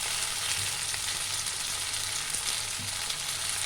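Cashews and raisins fry in a pan for dhaba-style chicken bharta, giving a steady close sizzle with faint stirring scrapes and no voices.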